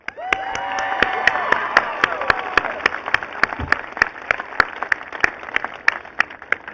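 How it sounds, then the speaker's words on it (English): An audience at a high school graduation ceremony applauds the teachers of Woonsocket High School: dense clapping with a few cheering voices at first, then thinning to scattered, sharp individual claps near the end. "please give a round of applause to all of the teachers in Woonsocket High School"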